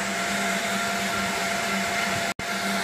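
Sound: fan blowing hot air from a Buleryan stove

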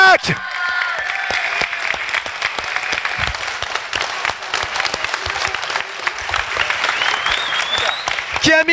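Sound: audience standing ovation applause

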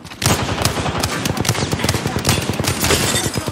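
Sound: gunfire in the video game Apex Legends

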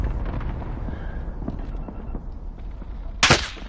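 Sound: gunshots in a video game

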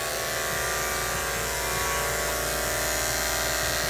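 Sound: electric grooming clippers buzzing while grooming a Shih Tzu

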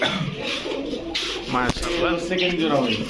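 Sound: pigeons cooing, racing pigeon pairs

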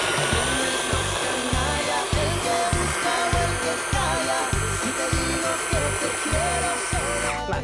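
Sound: food processor grinding dates

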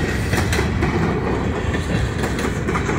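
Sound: CSX freight train E315 passing

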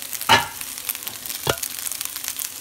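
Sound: fried rice with vegetables and egg frying

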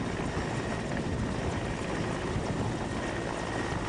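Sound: helicopter during snow rescue operation in Himachal

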